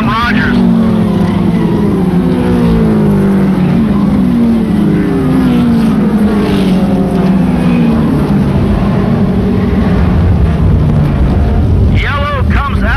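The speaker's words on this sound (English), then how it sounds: "A lap on the 25 of Sam Rogers." A race car lapping an oval track, a loud, continuous engine roar with shifting pitch as it circles, an announcer talking over it throughout.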